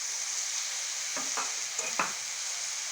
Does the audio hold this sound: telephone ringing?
no